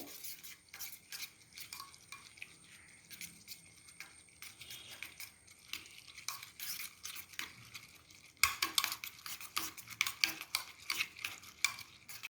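Egg whisked with green chili and onion for an omelet, a quick scraping and clinking of utensil against bowl, close and fairly soft, growing louder and sharper toward the end.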